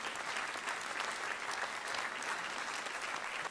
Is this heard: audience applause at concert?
yes